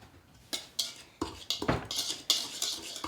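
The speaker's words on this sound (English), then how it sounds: "When you use a normal whisk and not an electric whisk, it's like an arm workout" Manual whisk stirring vanilla cupcake batter in a bowl, uneven clinks and scrapes of metal against the bowl in irregular strokes, close and fairly loud with no talking.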